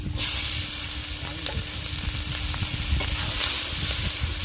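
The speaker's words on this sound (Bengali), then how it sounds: "ফোড়নে দিয়ে দিচ্ছি দুটো শুকনো লঙ্কা আর কটা দিয়ে দেবো পেঁয়াজ কুচি" Dried red chillies and chopped onion frying in hot oil for a meat curry: a loud, constant close sizzle with faint crackles and light stirring, no voices.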